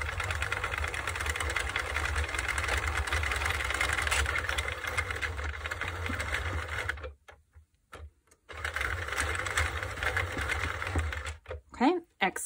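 Circular knitting machine whirring steadily while casting off stitches of a braided crossover wrap, a loud continuous mechanical drone that stops briefly twice near the end before resuming.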